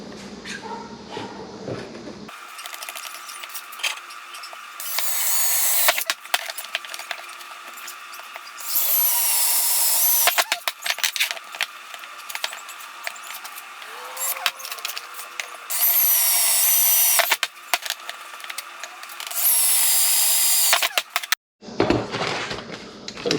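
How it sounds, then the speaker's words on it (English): A power drill whirs in several bursts, spinning up and drilling pilot holes for trailer tie-down rings, with pauses, clatter and handling noises between runs. "what I'm going to do is drill a pilot hole through each of these"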